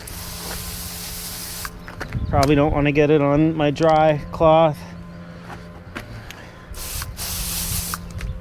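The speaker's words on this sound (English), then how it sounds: "I'm just gonna get a little bit of this Mud Guru on the chamois, spray it down" Mud Guru cleaner hisses from a trigger bottle onto a chamois during a dirt bike wash: a sustained close spray burst first, then someone speaks briefly, followed by more short, loud spray bursts near the end.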